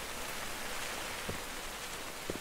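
Steady rain in the video game Generation Zero, a soft even hiss with no talk, plus two faint low thumps.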